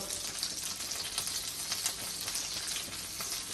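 A three egg omelette sizzles steadily in a frying pan while its cheese melts, giving an even, close hiss with soft crackles throughout.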